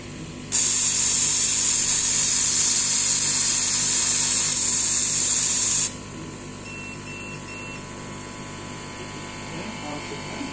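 A CO2 laser cuts through gasket sheet material on a repeat pass, giving a loud, steady hissing roar for about five seconds before it drops to a quieter background hum.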